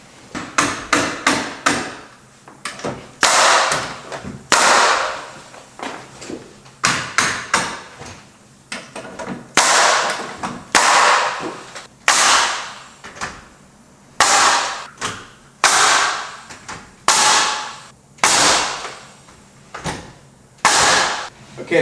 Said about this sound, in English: we fired up the compressor, got the framing gun, so it should speed it up some